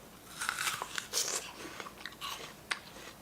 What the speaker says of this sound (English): if I bite the apple, it makes a sound